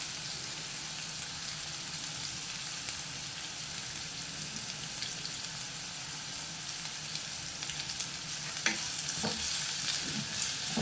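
Onions sautéing in a pan while being stirred, a continuous steady sizzle with occasional louder scraping strokes of the spoon toward the end.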